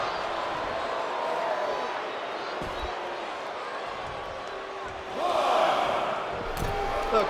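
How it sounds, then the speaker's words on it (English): A fired-up crowd at a wrestling event keeps up a steady roar that swells louder near the end, with a few thuds and slaps mixed into the noise. "The crowd is fired up."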